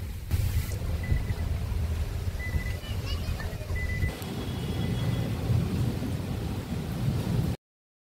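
Heavy rain falling steadily during a storm, a dense continuous roar of downpour close by with a faint distant rumble, no talking.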